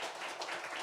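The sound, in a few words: congregation applauding in church service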